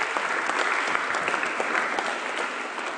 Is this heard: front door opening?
no